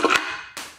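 A small metal part dropped during bottom-end assembly of a 1998 Talon TSi engine hits a hard surface with a sharp clack, followed by a second fainter tap as it bounces, close by with no voices.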